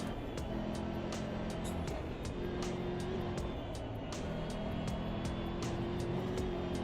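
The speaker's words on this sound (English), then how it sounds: "Why does this engine seem to sound the same regardless of how fast you're going?" Car engine in an online community racing video game, a steady, loud drone with a fairly constant pitch that rises only slightly, with regular sharp ticks and some tyre noise, heard alone without talk.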